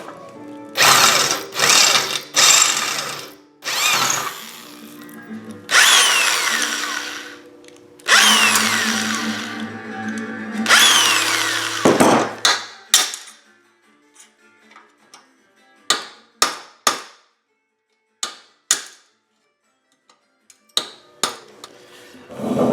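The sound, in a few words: drilling out a rivet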